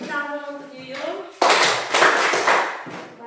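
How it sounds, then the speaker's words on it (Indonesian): Students in a classroom break into a short burst of applause for a classmate, clapping loudly after a teacher speaks. "Oke, tepuk tangan untuk Yuyun."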